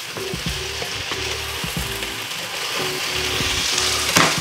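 Vegetables for Japanese yakisoba sizzle steadily in a hot pan, a loud close frying hiss with a faint intermittent hum beneath and a brief clatter near the end, no voices.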